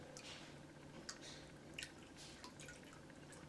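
Vintage 1952 Pine-Sol cleaner is poured into a container of water, giving soft, close drips and splashy liquid sounds at low volume over several seconds, with no talking.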